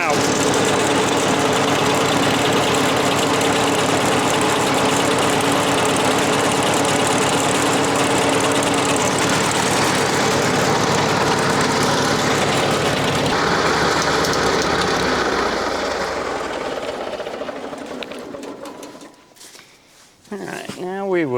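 A tractor engine with the gas turned off runs on in a loud, steady idle, then falters, sputters and coughs to a stop as the last fuel runs out.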